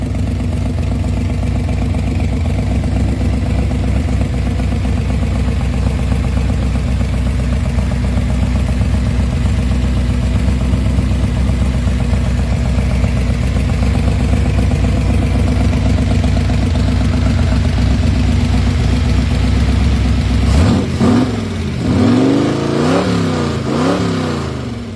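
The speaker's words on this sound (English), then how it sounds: "The 1950 Ford F1 custom pickup" Steady, loud engine rumble from a custom 1950 Ford F1 pickup, running evenly for about twenty seconds before a short burst of revving near the end.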